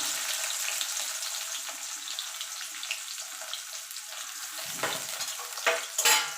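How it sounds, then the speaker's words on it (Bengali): Chopped onion and garlic fry in a pan with a constant bright sizzle, close and even, broken near the end by a couple of louder scraping stirs. "রসুন আর পেঁয়াজটা একটুখানি ভাজা ভাজা করে নেবো"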